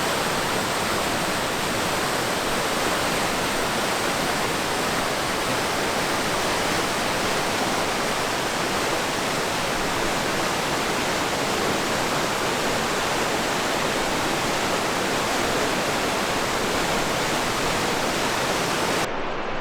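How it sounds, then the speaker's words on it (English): Steady, full rushing water fills the whole stretch at constant loudness, a broad continuous roar of a river flowing close by in Stein Valley Park, with no voices. "Just the sound of the river and the birds and my own footsteps and my own breathing."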